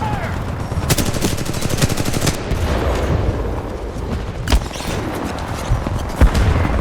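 Gunfire and explosions hit a Titan in the shooter game Titanfall 2: dense, rapid bursts of shots with several heavier booms over a steady battle rumble.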